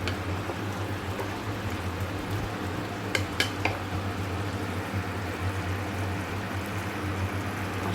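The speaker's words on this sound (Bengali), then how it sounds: "একটু গুড় দিয়ে আর একটু নাড়িয়ে নিচ্ছি" Vegetable curry with jaggery being stirred in a pot, a steady scraping and bubbling texture throughout with a couple of sharp utensil knocks near the middle; no talking.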